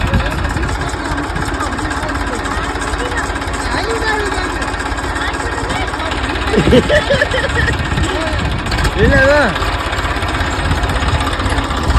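A tractor engine idles with a steady loud chugging drone close by, while voices speak over it and briefly rise partway through.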